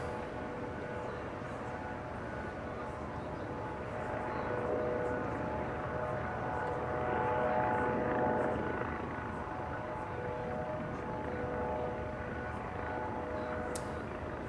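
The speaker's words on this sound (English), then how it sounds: "Looks like a C-17, I believe. That's more like a transport plane." A C-17 transport plane passes overhead during the Trooping the Colour celebrations for King Charles, a steady, loud jet roar and rumble that swells midway and then holds, with no talk over it.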